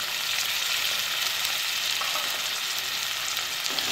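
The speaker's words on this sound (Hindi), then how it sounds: "अब हम इसमें टमाटर ऐड करेंगे।" Tomatoes hitting a pan of frying onions for pav bhaji give a loud, steady broadband sizzle that holds evenly throughout, with no voices over it.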